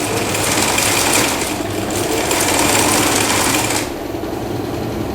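Sewing machine running a long stitch at loose tension through stretchy T-shirt knit, a steady close whirring drone that carries on evenly throughout with no talking.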